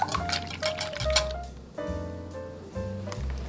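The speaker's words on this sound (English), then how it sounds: "Whisk it up for a couple of seconds." An egg is whisked in a bowl with rapid metallic clinks and taps in quick irregular bursts. A background tone drones underneath, and no one talks.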